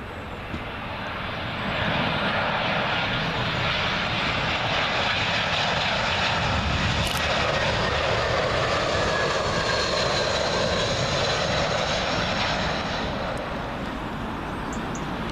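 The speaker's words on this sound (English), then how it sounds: "Next will be British Airways A319, this one in from Jersey." A British Airways Airbus A319 arriving from Jersey lands on runway 27L at Heathrow Airport. Its jet roar swells after two seconds and holds loud and steady, then eases slightly near the end.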